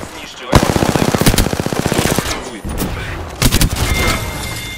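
Rapid automatic gunfire in the video game Apex Legends, a loud close burst of evenly spaced shots followed by a brief gap and then further bursts and a few heavier blasts, with no talking over it.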